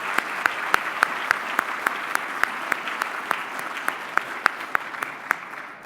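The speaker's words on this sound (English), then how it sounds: "one final round of applause and thanks to Ed and to all of our speakers and panelists and Garth" A luncheon audience gives steady, full applause, a continuous wash of many hands with a few sharper claps standing out at a regular pace throughout.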